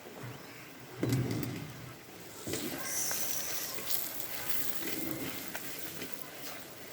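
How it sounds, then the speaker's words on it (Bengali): Green chillies frying lightly in a pan for a boal fish curry, a soft steady sizzle with a sharper burst and a clatter as they hit the oil, fairly quiet and continuous. "হালকা একটু ভেজে নেব।"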